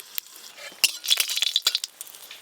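Dried red chillies hit hot mustard oil in a kadai, giving short bursts of crackling sizzle with a few light metallic clinks, close and fairly soft with pauses between.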